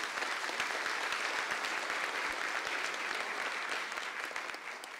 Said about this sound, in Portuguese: Uma salva de palmas para o Emerson.